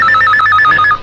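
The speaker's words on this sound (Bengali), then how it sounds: "এই তোর বাপ ফোন করছে, এমপি বিল্লা খান।" A telephone rings in a Bangla action film, a loud, close electronic ring repeating in quick, even bursts for about a second before it cuts off, with no voices over it.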